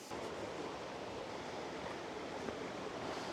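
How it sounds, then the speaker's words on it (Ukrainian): Continuous broadband rushing of a waterfall, steady and fairly loud throughout, close by, with no voices. "я чую шум, наче якогось водопаду"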